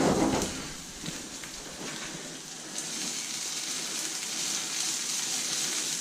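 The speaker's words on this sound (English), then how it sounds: "sear it off in a rocket hot cast iron skillet" A pork chop sears in a very hot cast iron skillet with a loud, dense, even hiss that starts with a sharp burst as the meat lands and then holds steady, no one speaking.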